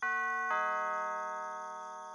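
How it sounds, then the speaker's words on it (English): A doorbell pressed by hand at a front door gives a clear two-tone ding-dong, the second chime ringing out and slowly fading, loud and close with nothing else audible. "The doorbell switch was mounted right beside the door, so I pressed it myself"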